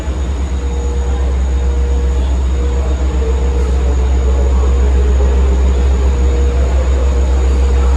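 A Long Island Rail Road train at Jamaica station in New York gives off a steady, loud low rumble with a faint high whine, a continuous drone of rolling stock close by.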